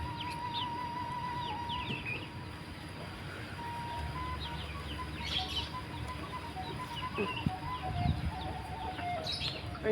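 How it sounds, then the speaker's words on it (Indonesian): A free-range village rooster clucks in short bursts at a distance over steady outdoor background noise, with faint bird calls scattered throughout and no speech. "Kayaknya ayam jago nih dia."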